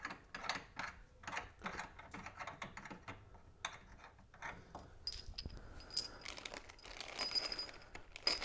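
Screws being driven into leg brackets on a Twilight Zone pinball machine, a close run of quick clicking, ratcheting taps and creaks, steady and fairly faint, with some squeaky scraping later.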